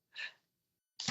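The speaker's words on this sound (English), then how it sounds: "I'm going to sneeze again" A short, breathy sneeze-like burst close to the microphone, followed by silence and another sudden loud burst at the end, with no speech.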